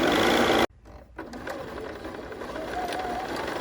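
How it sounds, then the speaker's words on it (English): A Bernina sewing machine stitches forward and back while sewing a centered zipper. It starts with a loud, steady mechanical whir, then suddenly drops to a softer, continuous running hum. "I'm going to go 5 stitches forward, 5 stitches back"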